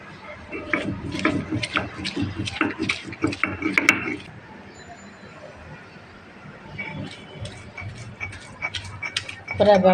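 Dried fish and sweet pumpkin leaves are mashed into bharta with rapid, close grinding and clacking strokes, pausing midway before resuming more softly.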